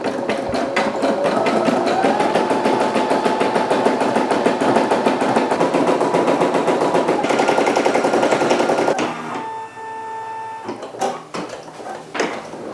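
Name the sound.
embroidery machine stitching a design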